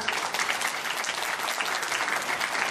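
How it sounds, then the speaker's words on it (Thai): Steady applause from a concert audience in a Thai music event, dense and continuous clapping throughout, fairly close and even in loudness with no voices over it. "ขอเสียงปรบมือให้กับ คอนเสิร์ตครั้งนี้ด้วยนะครับ"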